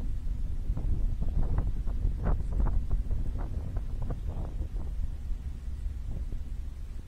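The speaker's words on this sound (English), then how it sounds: "It's a bit like a wind tunnel down here, very blowy." Strong gusts buffet the microphone at a canal mooring, a heavy low rumbling roar with irregular bursts, loud and close, with no voices.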